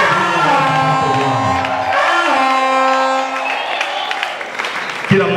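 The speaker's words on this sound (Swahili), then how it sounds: "Hebu nisikie shangwe kwa kila mmoja." A church congregation cheering and shouting together during a Swahili victory worship service, a sustained crowd roar with whoops and voices mixed with music-like tones, steady and loud throughout.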